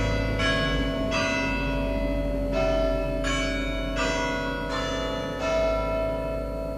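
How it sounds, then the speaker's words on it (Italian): Church bells in the diocese of Vicenza, Italy, peal in a steady series of strong, ringing strikes about a second apart, each tone lingering over a low background hum. "Le campane nella diocesi di Vicenza suoneranno a distesa in tutte le chiese alle ore 21"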